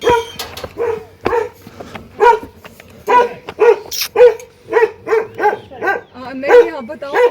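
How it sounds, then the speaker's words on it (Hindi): A dog barks at a house in a hilly area, repeatedly in a steady run of loud yaps nearby, with a voice talking over it. "इस घर पे तो डॉगी भौंक रहा है।"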